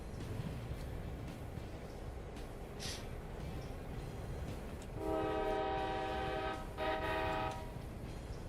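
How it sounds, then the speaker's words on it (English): A passenger train passes on a heritage railway, a low rumble steadily underneath as two long sustained horn blasts sound out nearby, the second shorter than the first. "we are following the passenger train"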